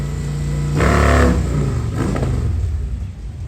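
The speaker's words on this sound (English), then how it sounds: "Getting a few practice launches and getting some heat in the tire is the big bagger in the left-hand lane" A Harley bagger drag motorcycle at a dragstrip revs hard during practice launches, a loud, deep engine rumble that swells into a strong burst of revving, then settles back into a steady, throbbing drone.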